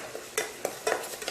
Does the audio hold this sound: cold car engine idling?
no